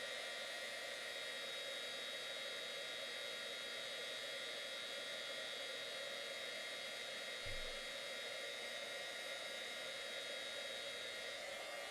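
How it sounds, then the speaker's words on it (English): An embossing heat gun blowing on a card, a steady, airy fan hiss with a motor whine held evenly the whole time, close and constant, with one brief low thump partway through. "And then I have my embossing gun plugged in. And we're going to emboss this."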